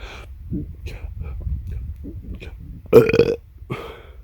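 Quiet talk runs through, then a person on a bow hunt gives a single loud, deep, guttural belch imitating a deer near the end, followed by a brief softer vocal sound.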